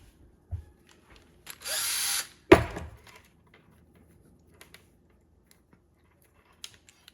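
A power drill whirs in one short burst as it twists red and black wires into a twisted pair on a desk, followed by a sharp clunk and a few quiet clicks.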